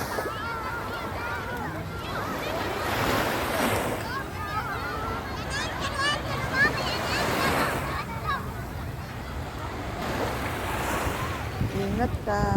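Strong sea waves roll onto the shore at Fahaheel, Kuwait, in a loud continuous surge with repeated swells and gusting wind on the microphone.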